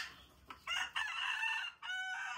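A chicken gives a loud, drawn-out crowing call in two long phrases, close and clear over faint background noise.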